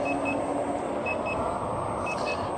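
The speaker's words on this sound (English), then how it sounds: "That beeping you hear, every time you go over 22 kilometers an hour, it starts beeping at you." Super Ride S1000 electric scooter speed warning: short paired high beeps repeating at intervals over steady wind and riding rumble while moving fast.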